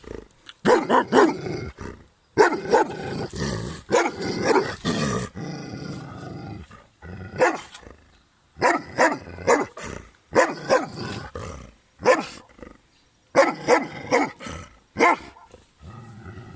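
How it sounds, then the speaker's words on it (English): A small puppy on a rural trek gives repeated short yaps and throaty growls in bursts with brief pauses between, close and fairly loud, with no talking over it. "Oh, he's a cute little puppy."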